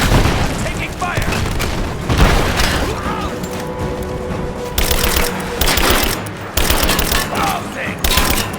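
Enemy gunfire in Rise of the Tomb Raider crackles in loud, dense bursts with booming impacts, continuous through the stretch and stacked in repeated volleys near the listener.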